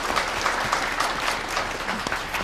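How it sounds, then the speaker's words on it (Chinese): Applause for company chairmen at a combined business partnership and engagement banquet, a steady wash of many hands clapping throughout, fairly loud and even. "接下来首先让我们掌声有请的是双方企业的董事长"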